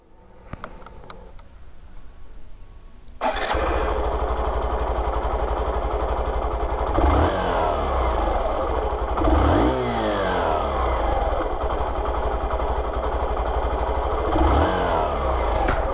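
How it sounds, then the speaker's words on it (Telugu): A Hero Super Splendor 125 BS6 motorcycle engine cranks and starts after a quiet moment, then idles loudly and close, revving up sharply three times. "Let start the bike."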